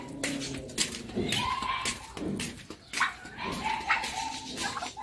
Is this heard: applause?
no